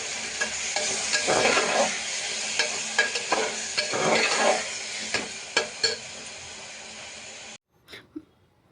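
Mint paste masala sizzles and fries in a pan while a utensil stirs it, with scraping strokes and sharp taps against the metal over steady hiss, ending in near silence and a couple of faint knocks.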